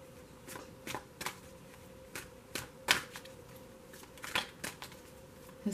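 Close, quiet shuffling of an Angel Romance tarot deck during a reading, with a series of soft riffling card slaps at irregular intervals over a faint steady hum.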